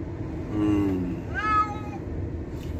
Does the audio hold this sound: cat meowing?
yes